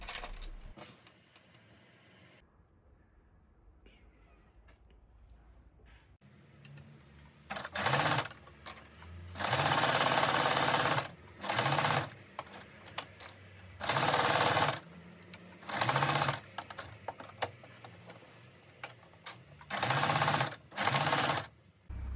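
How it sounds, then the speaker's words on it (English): Home sewing machine stitching a 1 cm seam on wide-waistband pants, running in several loud whirring bursts with short pauses between, close up and without speech. "pin everything in place and then sew with a 1 centimeter seam allowance"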